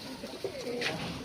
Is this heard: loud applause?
no